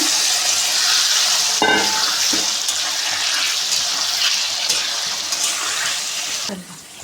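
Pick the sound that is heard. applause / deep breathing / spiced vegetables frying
spiced vegetables frying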